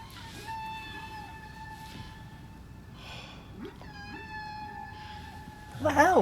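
Cats meowing in the soundtrack of the horror series Chiller, episode 'Toby': a loud, close yowl bursts out near the end, with fainter earlier mews over a sustained, wavering tonal drone.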